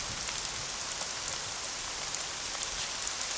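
Steady rain falls and patters on surfaces as a dense, even wash of drops at moderate loudness, with no voices over it.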